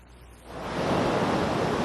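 Ocean surf breaking off the California coast at a crowded surfing spot: a steady, loud wash of rushing water that swells after a quieter start and holds as a dense roar.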